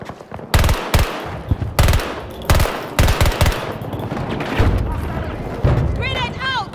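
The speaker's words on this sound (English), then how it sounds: "I hear all these sniper shots, but I cannot see the sniper" Gunfire in the video game Battlefield 2042 on the Arica Harbor map in hardcore mode, with several loud sharp shots in uneven succession, close booming reports and echoing tails, and some voice chat in the background.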